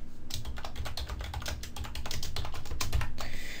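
HTML and CSS code is typed on a computer keyboard in a quick, uneven run of close, crisp keystrokes with no talking.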